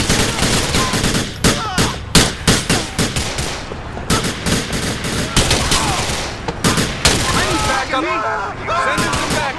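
Rapid bursts of gunfire from a police shootout in the video game GTA IV with the LCPDFR mod, loud sharp volleys repeating throughout, mixed with game sounds and shouting voices.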